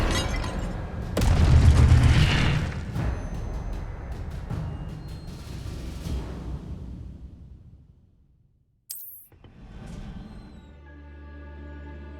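An Incendio fire spell cast in Hogwarts Legacy lands as a heavy whooshing burst with a deep booming low end, fading over several seconds, then a sharp crackling hit and quieter magical tails.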